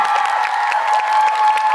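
A concert audience at a musical-theatre event in Seoul's Daehakro gives a brief burst of dense, steady applause that fills the whole moment, with no voices over it.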